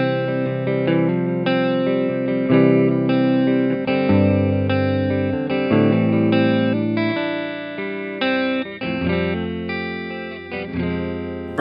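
Electric guitar strummed through a Line 6 POD Go preset, bright chords ringing out with effects, distortion and chorus shimmer, sustained and full with a few restrikes, loud and close with no talking.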